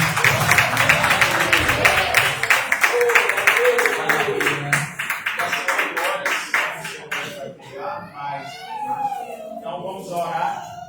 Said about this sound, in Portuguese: As palmas bem alegres para Jesus.